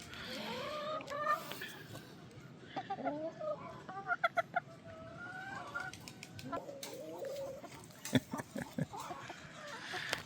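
Chickens cluck in short, scattered bursts, fairly close by, with faint ambient farmyard noise and a few sharper peeps between them.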